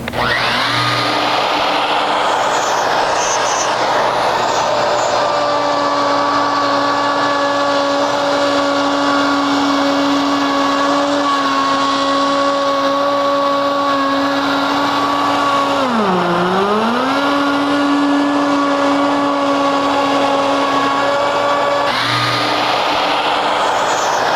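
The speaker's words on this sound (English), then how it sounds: "connect my dust extractor right to the router" A router cuts an elliptical arch with a dust extractor hooked directly to it, giving a loud steady high whine over a roaring airflow, with a brief dip in pitch midway as the bit bogs in the cut, then recovers.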